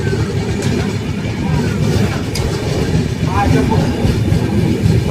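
Inside the Dharmavaram Express near Ongole railway station, the carriage rumbles steadily over the rails with a continuous close roar and faint clatter, while people talk.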